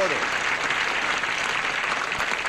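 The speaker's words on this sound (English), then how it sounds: "Nice little applause for them" Game show studio audience gives a short burst of steady, even applause, a continuous close wash of clapping filling the brief moment.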